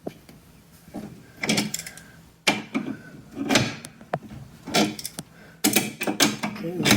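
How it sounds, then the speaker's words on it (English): An adjustable wrench tightens a bolt on a flat-screen TV wall mount, giving a series of clicking, scraping metal turns in uneven bursts, close and moderately loud. "then I'm going to use the adjustable wrench to finish it off"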